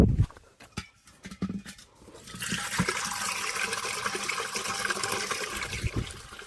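Water runs steadily into a container on a farm, a continuous broad hiss and gush after a couple of seconds of scattered knocks and handling sounds, close and fairly loud.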